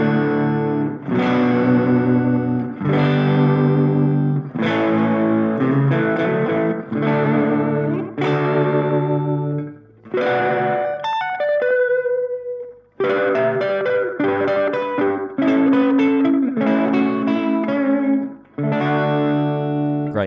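A Gretsch Brian Setzer Black Phoenix guitar strums a series of chords, each left to ring out with a touch of reverb. The strums come in separate bursts with brief gaps, clear and close, and no one speaks.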